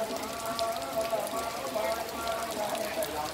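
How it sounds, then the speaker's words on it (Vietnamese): Rain beginning to fall outdoors, a soft continuous patter of drops hitting surfaces that stays fairly even, with a voice faintly present in the background. "Trời bắt đầu đổ cơn mưa."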